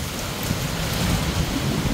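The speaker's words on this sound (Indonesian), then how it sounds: "ini hujan sudah mulai kenceng ya" Heavy rain pours steadily behind a house in Makkah, a dense close wash of drops with low rumbling thunder rolling underneath throughout.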